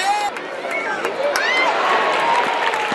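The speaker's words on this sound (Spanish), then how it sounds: "¡Fuerte el aplauso para él!" At a bullfight, a crowd applauds and cheers a recortador after a dodge, a loud, dense wash of clapping and shouts with whistles and voices mixed through it.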